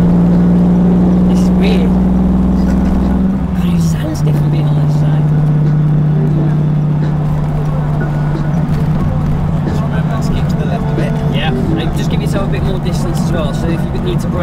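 A DeLorean DMC-12 engine drones loudly from inside the car under full throttle, a steady hum that shifts down in pitch early on and then holds, with people talking in the cabin throughout.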